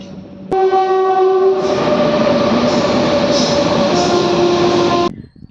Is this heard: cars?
no